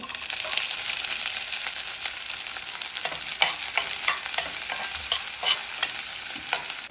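Onion frying in a pan sizzles with a dense, constant hiss, while a spatula stirs and scrapes it in quick, repeated strokes close by.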